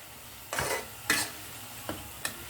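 Ivy gourd (dondakaya) curry frying in a pan and being stirred: a faint sizzle underneath four short, sharp scraping stirs spaced roughly half a second apart, nearby and otherwise quiet.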